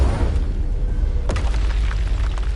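Incendio fire spell cast in Hogwarts Legacy, a booming burst of fiery blast with a rushing roar that fills the short moment, loud and close.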